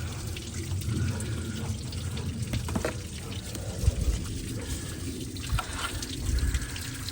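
Coolant pours and splashes out of the thermostat housing of a 1994-1998 Ford 7.3 Powerstroke diesel farm truck, a steady close liquid gush with a few splatters, and no speech over it.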